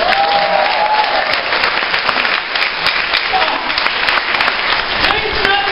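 Congregation at an El Shaddai DWXI PPFI fellowship gathering in Kuwait clapping steadily and loudly throughout, a dense continuous wash of applause with some voices mixed in.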